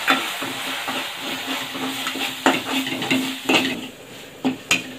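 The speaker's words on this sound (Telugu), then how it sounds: "ఈ పౌడర్ బాగా నూనెలో ఫ్రై చేసిన వెనక" Masala powder is stirred and fried in oil for kadai paneer gravy, with a loud close sizzle punctuated by metallic scrapes and clanks of a spoon against the pan.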